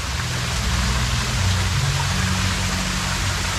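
Waterfall at a sheep farm in Nakhon Nayok, Thailand: a steady, loud rushing of falling water that fills the whole stretch evenly, with no voices.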